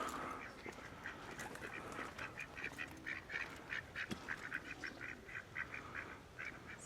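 Ducks quack repeatedly in quick, uneven bursts, fairly faint and a little distant, over a soft outdoor background in Parque del Andarax, Almería, Spain.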